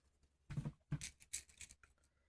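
Scissors snipping through gown fabric along a pinned seam, a few short close cuts in quick succession, quiet and crisp with no voices.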